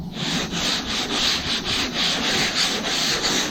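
A sanding block rubbing by hand over 2K primer on a hail-damaged car panel, making a steady, loud rasping scrape in even back-and-forth strokes.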